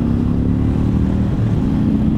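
A 2022 Honda Fury motorcycle engine rumbles loud and close as the rider opens the throttle, a deep, steady low growl building under acceleration with no talk over it.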